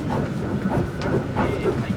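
A passenger train on a long-distance rail journey rumbles and rattles steadily at close range, a continuous loud clatter with faint hissing and no speech over it.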